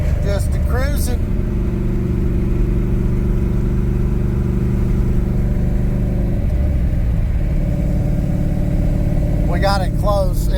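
A 2002 Pontiac Trans Am WS6 engine cruising, a loud steady low rumble close by that shifts pitch around the middle, with someone talking at the start and end.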